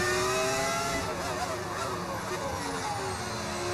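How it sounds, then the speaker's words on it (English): A V10-engined race car in F1 25 screams at high revs, a loud, continuous near engine tone with rising and falling harmonics as it accelerates and shifts, alone throughout. "Why does your car sound so good? I like it. That is the beauty of the V10 engine."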